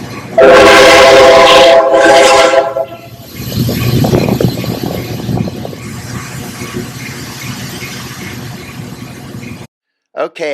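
A Panama Railway train running on the track, opening with two loud blasts of the horn, then a steady rumble and squeal of wheels on rails that fades to a lower hum before a sudden cut.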